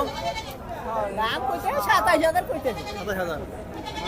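Goats bleat repeatedly, wavering and close, at a bustling riverside livestock market on the Jamuna, while someone talks over the animals.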